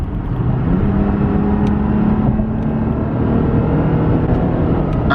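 A 2020 Toyota Tacoma TRD Off Road pulls hard from about 59 mph, its engine drone loud and steady with a rising tone over constant road and wind rumble.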